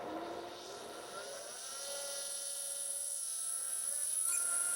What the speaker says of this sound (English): Start one pump.